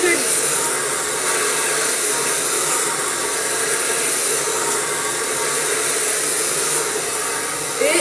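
A hair dryer runs continuously and loudly as hair is blow-dried straight with a small brush, a steady close whoosh with slight changes as it is tilted.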